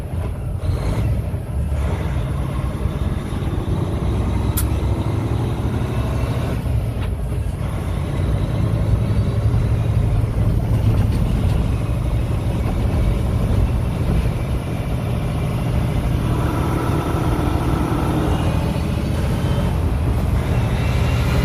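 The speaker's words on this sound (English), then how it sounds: "That damn engine brake." A Peterbilt 579 truck's engine brake rumbles continuously with a low, throaty drone, steady and close, with faint road noise around it.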